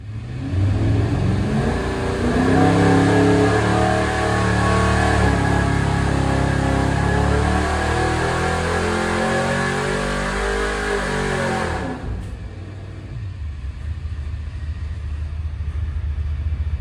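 A 383 engine dyno mule with double hump heads revving hard, a loud close throaty roar that climbs and holds high before dropping sharply to a rumbling idle.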